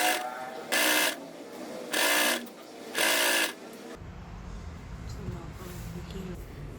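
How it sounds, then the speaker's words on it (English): A sewing machine topstitches the sides of a fabric tote bag in three loud, close bursts of rapid whirring, each lasting under a second, followed by quieter room sound. "We will top stitch the sides and bottom."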